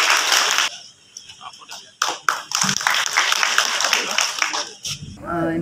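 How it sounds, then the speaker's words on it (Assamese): Audience applause at a felicitation ceremony in the Bani Kanta Kakati auditorium of Srimanta Sankardev Kalakshetra: a dense burst of many hands clapping, fading briefly and swelling again, with voices mixed in underneath. "এয়া অকমান হাত চাপৰি দিয়া আকৌ।"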